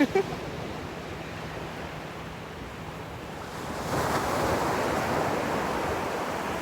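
Ocean waves wash steadily in a broad, hissing roar that swells louder toward the end, with a low background hum and no voices.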